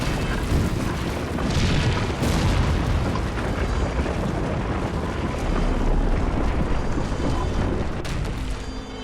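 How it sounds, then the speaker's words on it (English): A burning alien warship crashes onto the earth with a sustained, heavy rumbling roar full of booming crashes and debris noise, loud and continuous throughout. "now a helpless mass of burning wreckage, the great ship sinks like a dying beast onto the cold, hard earth"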